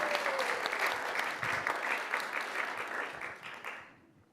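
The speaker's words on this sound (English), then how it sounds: "round of applause for second place." An audience at an honors event applauds for a second-place finish, a full, even burst of clapping that holds steady before tapering off and fading out near the end.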